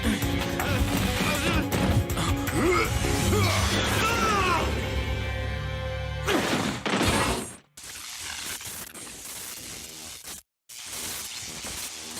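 Generator shot and destroyed in Mega Man Maverick Hunter X, a loud sustained game soundscape of blasts and crashing debris, then a sharp shattering burst and brief silences as the explosion cuts out.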